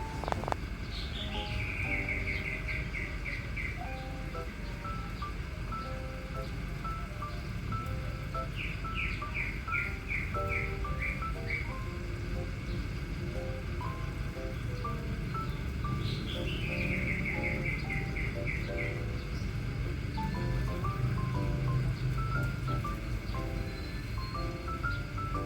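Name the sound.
many birds calling in a mango tree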